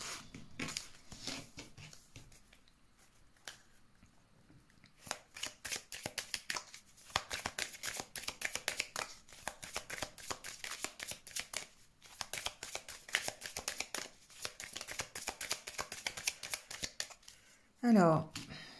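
Tarot cards are shuffled for a reading in rapid bursts of crisp riffling and flicking, with brief pauses between runs, fairly close but soft, ending in a short louder rustle.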